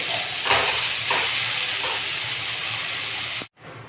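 Freshly washed leafy greens hit a hot pan and let off a loud, steady hissing sizzle with a few bursts of steam, then it cuts off abruptly near the end.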